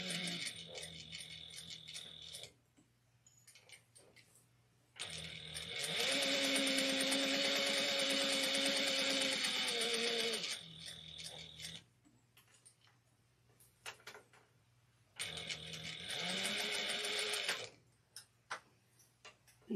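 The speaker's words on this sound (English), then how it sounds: "I'm going to sew this at 3/8 of an inch" A sewing machine stitches a 3/8-inch fabric seam for a mini convertible bag in several bursts of steady whirring. Short pauses separate the runs, and the longest stretch lasts about five seconds.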